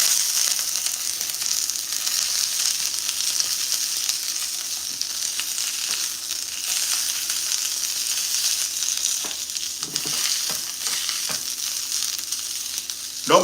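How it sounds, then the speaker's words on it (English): Asparagus spears sizzle loudly as they are laid into a hot pan of oil, a steady, dense frying hiss holding throughout with a few brief clatters near the end. "We're gonna lay our asparagus in the pan."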